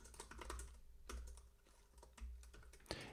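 JavaScript code is typed on a computer keyboard in quick irregular bursts of close, soft key clicks, ending with one sharper keystroke.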